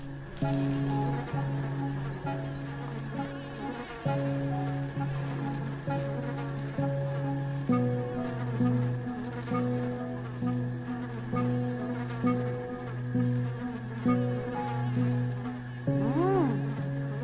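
Cartoon wasps buzz as they fly off, a steady synthetic drone that shifts pitch in steps and ends with a quick rising whoosh.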